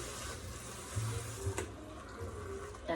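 Crushed tomatoes being stirred into a pot of soup, a soft wet scraping and sloshing with a few brief louder clinks, steady and close with no talking.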